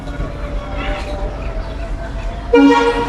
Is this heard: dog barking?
no